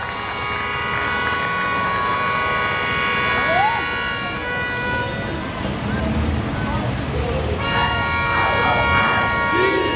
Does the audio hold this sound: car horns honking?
yes